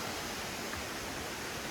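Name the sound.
Lovers Valley waterfall, Maolin, Kaohsiung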